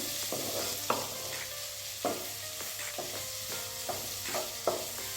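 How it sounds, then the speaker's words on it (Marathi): A spatula stirs and scrapes bitter gourd curry with plenty of fresh coriander in a pan, giving a series of sharp, regular scraping strokes over a soft, continuous sizzle. "भरपूर अशी कोथिंबीर घातलेली आहे सगळं मिक्स करून घ्यायचं आहे"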